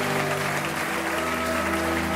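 Congregational applause during a church worship service, a dense continuous wash of clapping that stays loud and even over sustained organ-like musical tones.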